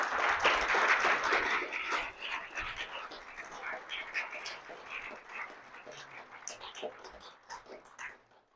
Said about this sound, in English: giving him a standing ovation and thunderous applause